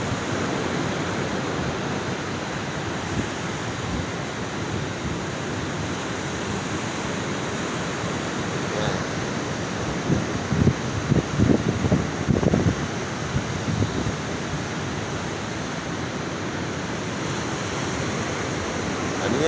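Sea waves at night on the shore at Dingalan, Aurora, a steady broad wash of surf rushing throughout, with a louder surge partway through and a brief voice heard faintly.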